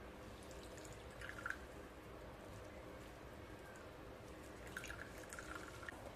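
Coconut milk drips from grated coconut being squeezed by hand. A few soft, faint drops fall at scattered moments over a quiet, low background.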